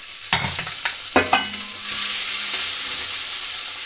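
Ground spice paste for banana stem and green gram thoran dropped into hot oil in a pan, a few quick clatters of the spoon stirring followed by a loud, steady sizzle that fills the rest of the moment.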